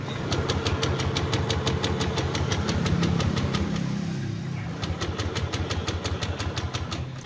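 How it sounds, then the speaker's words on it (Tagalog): A motorcycle with a fault tries to start on the push button: the starter cranks in a steady fast rhythm of regular pulses for about seven seconds, easing briefly mid-way, but the engine never catches. "ayaw pa rin umandar ng motor"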